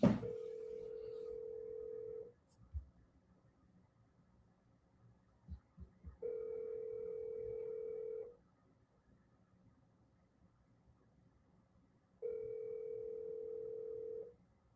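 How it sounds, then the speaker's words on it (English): Outgoing phone call ringback: three long steady tones, each about two seconds, separated by roughly four-second gaps with faint clicks between, clear and alone with no talk. "Let me see if I can get Aaron on the phone"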